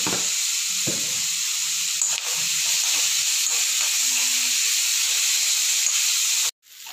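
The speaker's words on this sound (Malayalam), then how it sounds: "ഉള്ളിയൊക്കെ നന്നായി വാടി വരണം." Sliced onions and curry leaves sauté in a hot pan with a loud, constant frying hiss and occasional faint stirring scrapes, cutting off abruptly near the end.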